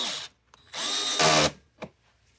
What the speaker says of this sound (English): Just took a screw out of one of my work benches over here